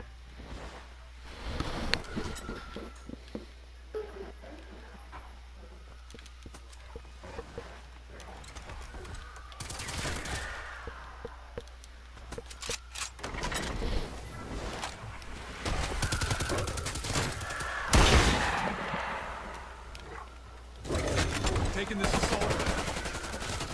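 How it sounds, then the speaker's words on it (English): Light machine gun in a zombies shooter game rattling off repeated loud automatic bursts, some short and some sustained, over a bed of quieter game noise. "Light machine gun."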